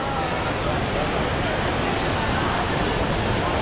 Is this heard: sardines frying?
no